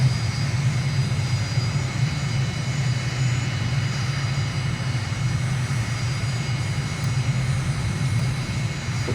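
Steady jet engine drone from an aircraft on landing approach in a flight simulator game, a continuous loud low rumble with a broad hiss above it, unbroken and even for the whole stretch with no voices.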